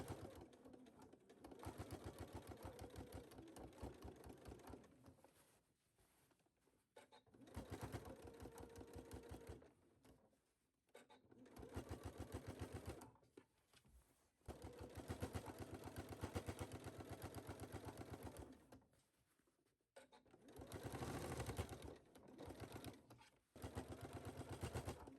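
A sewing machine top stitching across the bottom edge of a waistband with a wide stitch length, running in several sustained bursts of steady whirring, each separated by short pauses, close up with no voices.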